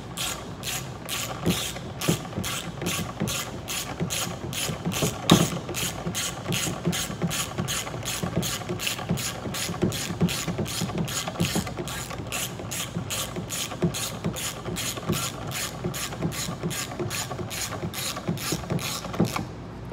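Hand-cranked front end gearbox on an EDGE machine, giving a steady, evenly spaced run of mechanical clicks and ratcheting ticks, close and continuous for about twenty seconds.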